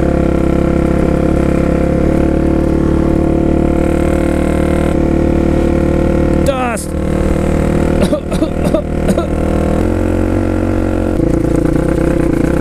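A Suzuki DRZ400SM supermoto motorcycle being ridden on Utah trails, its engine droning steadily and loudly up close, with short throttle blips and gear changes in the middle, and no talk.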